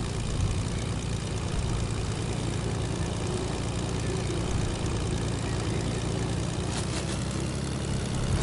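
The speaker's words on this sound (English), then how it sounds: "Don't gotta fear when you got an airplane" An airplane engine in a video game drones steadily and loudly, a constant propeller hum with little change across the whole stretch, without speech.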